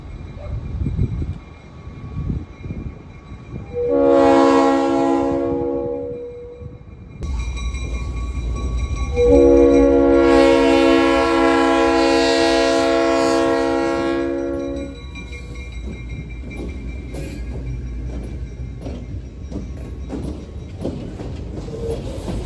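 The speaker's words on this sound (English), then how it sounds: "Having finished sorting out their train, the crew heads back south to Myrtle Street." A Seminole Gulf Railway freight train with GE and Geep locomotives sounds its horn twice in South Florida, a short blast then a longer one, over a steady rumble of engines and rolling cars close by.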